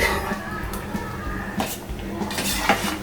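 Thick millet pongal is stirred in a cooking pot, the ladle scraping and knocking against the metal in irregular clinks and scrapes, close by, with a voice talking throughout.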